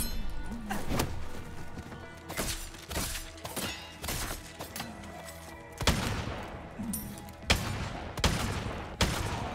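Gunfire from the Resident Evil 4 video game with the Valkyrie mod, a string of loud, sharp shots in irregular bursts, some clustered close together, over a constant background of game ambience.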